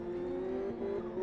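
Ferrari 488 GT3 race car in Live for Speed, its steady engine drone holding a sustained tone as it passes at moderate distance, with no voices.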